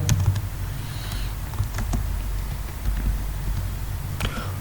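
Keys tapped in a quick irregular patter on a computer keyboard while HTML tags are typed, close and steady, heard alone over a low background hum.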